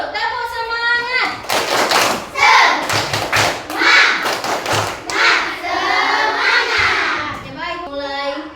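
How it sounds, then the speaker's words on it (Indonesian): Schoolchildren in a classroom perform a rhythmic spirit clap, with patterned bursts of hand claps and thumps mixed with their chanted voices and the teacher's speech. "Tepuk semangat."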